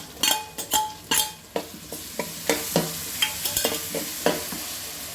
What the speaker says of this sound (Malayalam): ഉള്ളി കിടന്നൊന്ന് വഴണ്ട് വരട്ടെ കേട്ടോ. ഇനി നമുക്ക് ഇതിലേക്ക് ഇഞ്ചി വെളുത്തുള്ളി പേസ്റ്റ് ഇട്ട് കൊടുക്കാം.